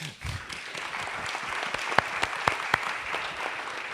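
An audience at an opening session applauds, scattered close claps with a few sharp individual hand strikes over a steady bed of clapping.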